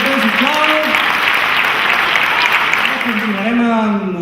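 Steady, dense applause from an audience at a pageant-style election of candidates in Andorra, sustained and loud throughout, with a voice speaking over it at the start and end.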